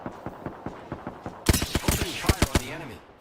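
Rapid video-game gunfire, sparse single shots at first and then a louder, denser burst of shots, with a voice talking over the later part.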